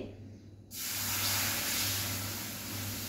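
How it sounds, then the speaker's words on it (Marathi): Water hits a hot kadhai for sheera with a sudden loud hiss that settles into a steady, spitting sizzle, close by, with a low hum underneath. "ते पाणी मी घालून घेते या कढईमध्ये"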